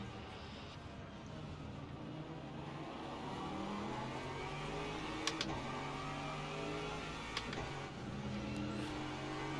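A race car engine hums steadily in Le Mans Ultimate during a race in Bahrain, a sustained mid-pitched drone that shifts gently in pitch, with two brief sharp clicks partway through.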